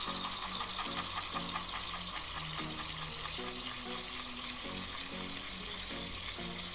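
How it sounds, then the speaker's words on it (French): A mini washing machine for makeup sponges and brushes runs with a steady whirring and sloshing churn, its rhythmic pulses repeating about every half second, faint but continuous. "C'est genre une vraie machine à laver en fait."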